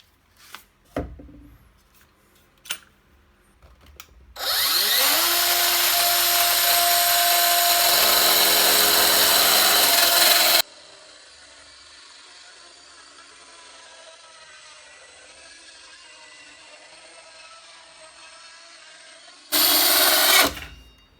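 A Parkside PHKSA 12 A1 12V cordless mini circular saw makes a 45-degree bevel cut with the blade depth left unadjusted. A few sharp clicks come first, then a loud, steady high whine for about six seconds, a lower running hum, and a brief loud burst at the end.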